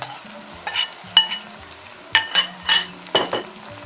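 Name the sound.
stirring beans stew in a pot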